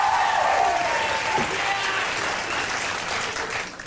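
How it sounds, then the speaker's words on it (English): Studio audience applause during a television talk show, a steady wash of many hands clapping at moderate distance, continuing throughout with faint voices beneath. "You can clap louder."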